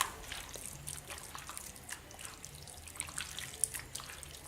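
A kitchen tap runs while hands are washed after mixing a beef marinade, a steady close splashing stream with small drips and trickles, no talk.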